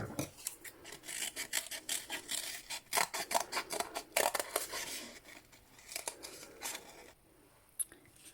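Paper being cut into a unicorn head shape with horn and ears, scissors snipping and rasping in quick close repeated strokes, with a short quieter pause near the end.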